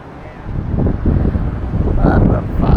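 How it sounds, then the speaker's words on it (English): Strong wind buffets the microphone on a bridge over the Intracoastal Waterway, a loud, close, gusty rumble that fills the whole moment. "It's so damn windy."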